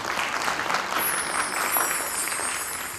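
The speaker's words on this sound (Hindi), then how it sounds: "एक बार आप सबके लिए जोरदार तालियां होंगी।" Loud, steady applause from an audience at an outdoor evening cultural gathering on a cold night, a dense wash of many hands clapping without a break for the whole stretch, with no speech over it.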